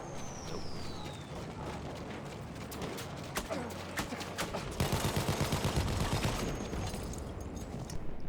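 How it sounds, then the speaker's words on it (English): Heavy machine gun firing in a video game, a rapid, steady stream of shots that grows denser and louder toward the end, mixed with other game noise and brief spoken remarks. "Oh, heavy machine gun."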